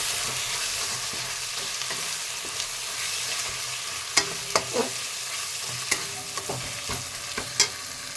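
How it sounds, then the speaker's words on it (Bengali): Coriander and cumin powder masala frying in oil in a pan for chicken curry, a steady sizzle broken by several sharp scraping stirs of a spoon against the pan, close and loud, with no talking. "ধনে গুঁড়ো, জিরে গুঁড়ো, ভালো করে মশলাটা ভেজে নেব"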